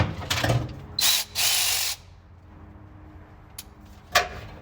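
Ratchet tightening a ground connection on a car fitted with a push-to-start alarm system: a few loud, close bursts of ratcheting clicks in the first two seconds, then a quiet pause and a couple of sharp metallic clicks near the end, with no talking.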